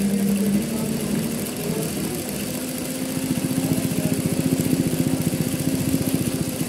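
A sewing machine running steadily while stitching along the edge of a collar strip, a loud close mechanical hum with a fast even pulsing rhythm that quickens slightly toward the end, with no talking.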